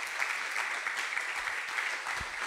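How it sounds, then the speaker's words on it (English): Audience applause at an open-air museum artist talk, a steady even wash of many hands clapping at moderate distance, continuous throughout with no voices standing out. "I want to just give you a round of applause before we even get started on anything."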